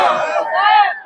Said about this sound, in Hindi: अफवाह के नाम पे ये भीड़ है जो उग्र होती है